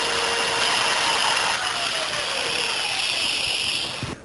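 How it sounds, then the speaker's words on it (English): A lathe whirs steadily with a continuous abrasive hiss of a flexible sanding disc against the interior of a wooden bowl, slowing and winding down at the end. "Flexible discs like this, designed for sanding bowls on the lathe, work great on the bowl interior."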